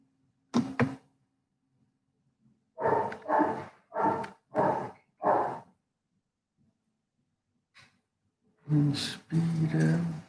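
A neighbour's dog barks in a quiet room: a single bark or two early on, then a run of four or five evenly spaced barks, one faint yelp, and two final louder barks, with no talk heard.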